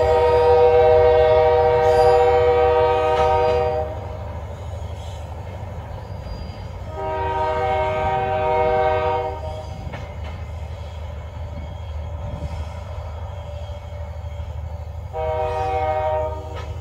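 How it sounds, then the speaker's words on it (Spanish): An Urquiza Mesopotámico train sounds its horn in three loud, sustained blasts of a few seconds each over the steady low rumble of the rolling train. "A ver si toca la bocina."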